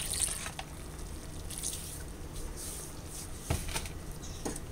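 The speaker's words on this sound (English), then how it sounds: "I saved some pasta water. I'm going to pour a little bit of that in there." Pasta water pours and splashes steadily into a pot, with a few louder splashes and drips; no one speaks.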